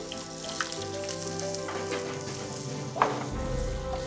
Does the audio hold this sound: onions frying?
yes